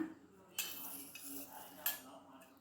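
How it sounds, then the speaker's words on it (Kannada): Dry chillies, niger seeds, peanuts and curry leaves dry roasting in a pan, heard as faint clinks and scrapes of a utensil stirring, with two sharper knocks. "ಒಣಮೆಣಸಿನ್ಕಾಯಿ ಹುಚ್ಚೆಳ್ಳು ಕಡಲೆ ಬೀಜ ಕರ್ಬೇವಿನ ಸೊಪ್ಪು ಇವು ನಾಲ್ಕು ಸ್ವಲ್ಪ ಡ್ರೈ ರೋಸ್ಟ್ ಮಾಡ್ಕೊಳ್ಳೋಣ"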